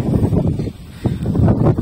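Strong wind buffeting the microphone on the hilltop of Farm Ridge, Pantabangan, Nueva Ecija, in loud, gusty roaring bursts with short lulls between them.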